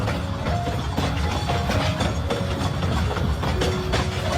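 Small sightseeing train at Chaka Salt Lake rolling past with steady clickety-clack of wheels on rails and a continuous rumbling drone, close and fairly loud, with no voices.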